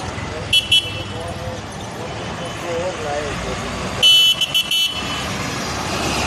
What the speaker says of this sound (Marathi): मालवाहतूक सगळ्या ट्रक इकडून जाते